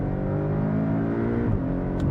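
A Porsche 718 Cayman S accelerates hard from a standstill without launch control, its engine note rising loudly and continuously close by, with a brief dip partway through as it builds up and loses traction.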